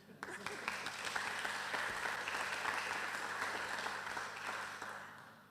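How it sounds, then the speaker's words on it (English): An audience claps after a property technology talk, with steady applause from a room of people that swells and then tapers, heard faint and at a distance. "I would like to, a round of applause, please."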